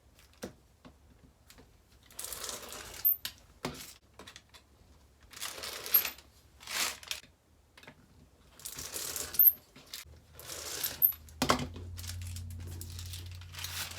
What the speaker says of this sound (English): I have a rotary cutter that I use just for cutting paper and plastic and things like that